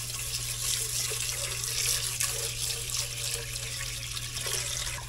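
Sushi rice rinsed under a running tap, a steady close stream of water pouring and splashing continuously for several seconds, with a low mains hum beneath and no voices.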